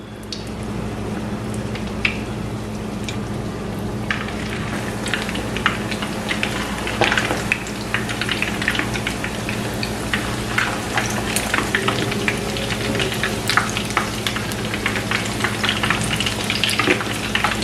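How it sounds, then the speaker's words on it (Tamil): Noodle fish cutlets deep fry in hot oil with a steady, dense sizzle and crackle, punctuated by pops and bubbling bursts, loud and close throughout with no voices. "இப்போ இதை நாங்கள் பொரிச்செடுப்போம்."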